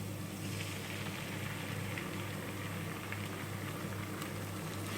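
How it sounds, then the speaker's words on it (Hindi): Ginger garlic paste fries with golden-brown onions in a pan, giving a steady, dense sizzle that stays even and continuous with no break, close and moderately loud. "अब अदरक लहसुन अच्छे से थोड़ा सा भुन गया है।"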